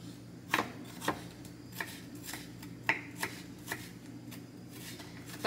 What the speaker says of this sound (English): I'm going to use regular onion and chop it up